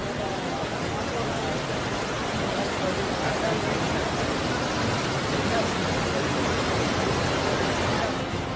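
Floodwater rushes through the streets of Muscat, Oman, as a steady, loud, unbroken roar of churning water that holds the same dense wash from start to finish.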